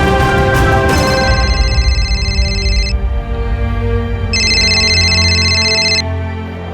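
Telephone ringing in a Hindi crime drama, two long electronic rings separated by a pause, loud and close over a steady background bed.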